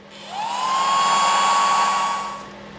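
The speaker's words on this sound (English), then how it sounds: "The world's smallest vacuum. Yeah, you just put this next to your work and you turn it on." A tiny handheld vacuum used beside guitar binding repair work spins up with a rising whine, holds a steady high-pitched hum, then winds down, close and alone.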